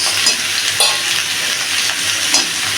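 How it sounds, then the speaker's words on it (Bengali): Potatoes and squash fry together in a pan for a squash-and-potato curry, giving a steady, close hiss of oil with a few soft stirring scrapes and no talking. "আলুগুলো এবার দিয়ে দিচ্ছি কোয়াশের মধ্যে এরকম একসঙ্গে ভেজে নেব আলু আর কোয়াশ"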